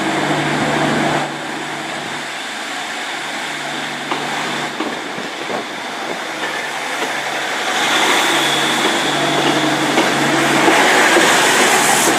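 A GWR Class 150 and Class 153 diesel unit pair rumbles past nearby with a steady engine drone and rolling wheel noise, building louder toward the end.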